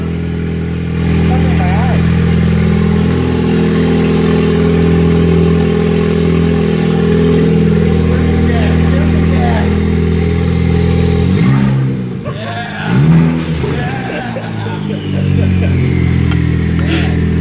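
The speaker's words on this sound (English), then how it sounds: "Rev it up!" A loud Ford Focus ST engine with a catless downpipe and MBRP turboback exhaust idles with a deep, rumbling exhaust drone, then revs sharply a couple of times near the end before settling back.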